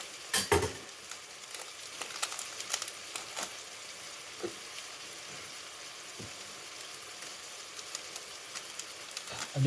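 Buro, Filipino fermented fish, sautéing in oil in a pan: a faint, steady sizzle with soft crackles and a few louder pops and stirring clinks.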